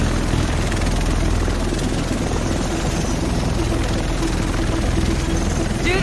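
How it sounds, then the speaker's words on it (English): Helicopter in the video game Tom Clancy's The Division, a loud, steady close-up rotor roar with dense chopping thrum that fills the whole stretch without pause. "The rest of us should be in this chopper."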